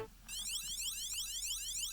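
A LEGO sound brick plays an electronic siren, a rapid warbling whoop repeating in fast rising sweeps, thin and tinny, starting abruptly after a brief pause and carrying on alone.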